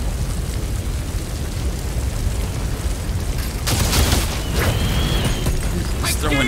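Grenade blasts in the Outriders shooter game, a burst of heavy booms and crackling bangs landing in quick succession over a steady background rumble.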